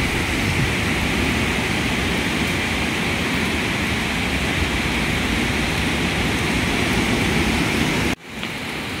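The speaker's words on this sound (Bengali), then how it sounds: "এরকম হাওয়া, এরকম বৃষ্টি।" Heavy rain and gusting wind during Cyclone Remal in Kolkata make a loud, steady, close roar that holds without a break and then cuts off abruptly near the end, with no voices.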